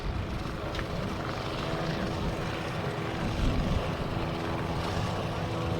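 A composite ARF Flybaby model aircraft with a Valach engine flying at a model air show, a steady propeller drone that swells slightly at the end and continues under outdoor ambience.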